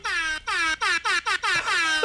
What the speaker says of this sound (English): The DJ air horn.